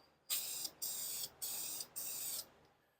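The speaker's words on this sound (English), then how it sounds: "I've never actually used spray polyurethane before." Four bursts of aerosol polyurethane spray hissing close by, each lasting about half a second with short pauses between them.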